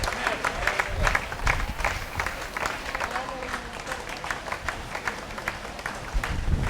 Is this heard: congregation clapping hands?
yes